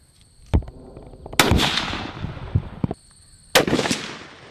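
Several sharp gunshot bangs ring out during a youth deer hunt in the Wisconsin woods, spaced unevenly over a few seconds, each followed by a rolling echo that fades into quiet.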